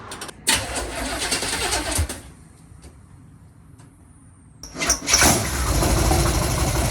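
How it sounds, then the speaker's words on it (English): A twin-turbo 1969 Chevelle engine cranks and roars to life on its first startup, drops briefly to a quieter stretch, then revs loudly again and settles into a rough, throaty run nearby. "This is the very first startup of the twin turbo Chevelle."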